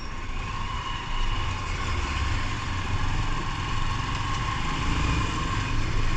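A 2014 Honda TMX Supremo motorcycle engine drones steadily while riding on the road, a continuous low rumble with a constant hum running the whole way through, fairly loud and without speech.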